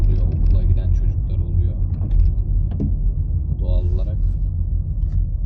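Morning traffic rumbles along University Road in Malatya, a continuous low drone of passing cars with a few brighter clatters mixed in, while someone talks over it.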